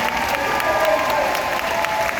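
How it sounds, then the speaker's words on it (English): Audience applause for a speaker's husband at a live event, dense steady clapping from a crowd filling the space with occasional cheers, loud and continuous throughout. "Can I have a round of applause for my amazing husband?"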